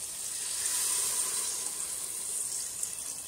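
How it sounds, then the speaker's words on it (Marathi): Hot water poured into a pot of mutton browned with turmeric, a steady close rushing pour that runs unbroken for a few seconds with no talk. "कधी मटणामध्ये गरम पाणीच ओतायचं"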